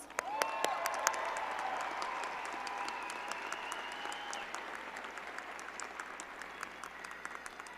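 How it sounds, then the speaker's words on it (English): Steady applause from a large crowd at a psychology commencement ceremony, dense clapping holding at an even level throughout, with a few brief cheers near the start. "Give her a round of applause."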